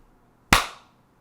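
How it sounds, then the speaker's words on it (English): A single sharp hand clap, close and loud, with a short decaying tail, standing alone in an otherwise quiet room. "Wow, you could actually clap this week."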